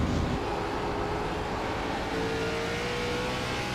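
Race car engine in a sim racing game at Watkins Glen International, screaming close to its 10,000 RPM limit; a loud, continuous high-pitched whine sustained throughout with slowly rising tone.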